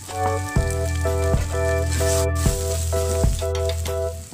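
Small chopped bamboo shoots sizzle in a frying pan with scrambled egg for lumpia filling, a steady close crackle broken by a few light stirring knocks.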